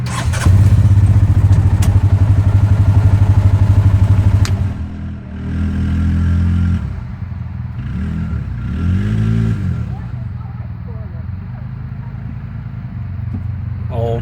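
A Dust Runner Honda 250R remote-control ATC buzzes loudly nearby at high revs, then its small engine drops and rises in several shorter whining bursts as it is driven around.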